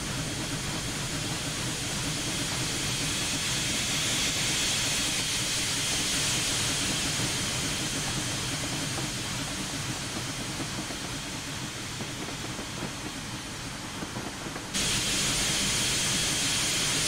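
A Union Pacific Challenger steam locomotive running in Train Simulator Classic: a steady, loud hiss and rolling rumble held without a break, with a slight shift in tone near the end.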